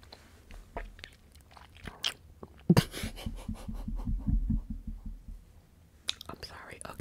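Hard gum chewed right at the mouth, with wet, crunchy bites and smacking in a steady rhythm, very close and intimate, mixed with soft whispering.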